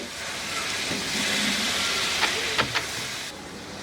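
Ridge gourd frying in a pan, giving a steady sizzling hiss that runs throughout with a few brief clicks and stirs near the end.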